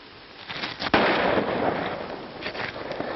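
Gunfire in a 1932 western film: a sharp crack followed by a dense, sustained crackling burst on an old, band-limited soundtrack.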